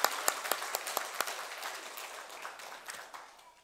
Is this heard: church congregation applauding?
yes